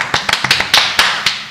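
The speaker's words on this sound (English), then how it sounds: "Oh, fast clap." A small group claps quickly in a series of sharp, separate bursts, close and clear, with no one talking over it.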